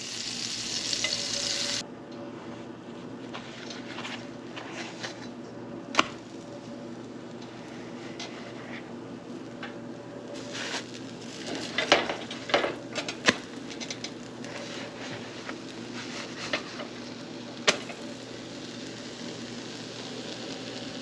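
Homemade pancakes frying in a little butter in a pan, heard as a long, even sizzle with scattered crackles and a few sharp clinks of a utensil against the pan.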